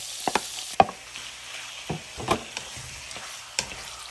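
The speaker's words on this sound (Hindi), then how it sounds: "अब जो चिकन मैंने मैरिनेट किया था वो मैं इसमें ऐड कर दूंगी।" Marinated chicken lands in a pan of frying garlic and is stirred with a spoon: a steady low sizzle with scattered sharp clinks and scrapes, close and moderately loud, no talking.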